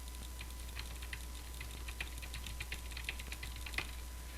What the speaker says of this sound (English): let's just do a quick click test to see if it picks anything up